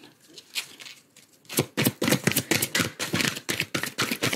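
Oracle cards are shuffled by hand during a tarot-style reading, after a quiet start, a rapid series of crisp riffling bursts and slaps in an uneven rhythm, close and fairly loud.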